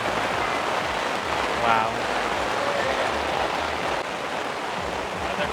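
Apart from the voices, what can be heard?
rain falling on a market tent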